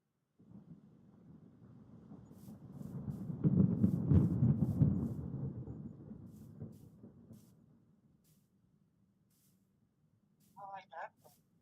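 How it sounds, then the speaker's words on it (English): Thunder in a modded Minecraft storm, a deep rumbling roll that swells to a loud peak and slowly dies away, followed by a brief higher warbling sound near the end. "When you hear thunder in this game, it's almost never a good sign."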